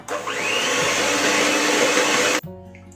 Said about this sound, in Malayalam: ഇനി ജസ്റ്റ് ഇതൊന്നും കൂടി നമുക്ക് ബീറ്റ് ചെയ്തെടുക്കാം.